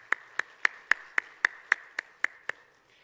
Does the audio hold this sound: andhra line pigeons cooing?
no